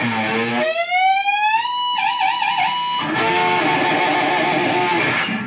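Electric guitar playing a reverse dive bomb with the whammy bar in a solo, a single distorted note swooping upward in pitch and then wobbling, followed by a burst of gritty distorted chords, loud and alone.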